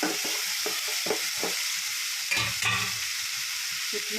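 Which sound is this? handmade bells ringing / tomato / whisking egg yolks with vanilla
tomato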